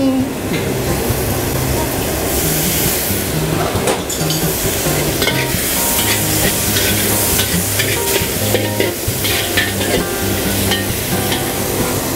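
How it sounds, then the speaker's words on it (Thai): A vegetarian fusion stir-fry sizzles loudly and steadily in a hot pan as it is tossed with soy sauce and a splash of soup stock added, with scraping stirs and occasional clinks throughout. "ผัดให้เข้ากันนะครับ แล้วก็ใส่น้ำซุปนิดนึง"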